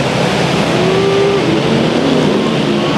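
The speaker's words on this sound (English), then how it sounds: "Those cars are so loud." Loud, continuous engine roar of race cars speeding past during a 100-lap enduro at Madera Speedway, with pitch shifts as they go by and no voices.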